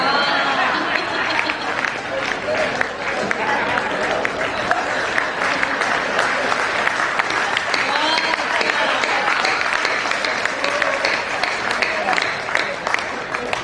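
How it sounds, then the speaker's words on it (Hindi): Audience at a comedy poetry show in Mumbai breaks into dense, sustained applause, a loud continuous patter of many hands clapping with crowd chatter mixed in. "एक भी मर्द ऐसा नहीं है जिसने ताली नहीं बजाई हो।"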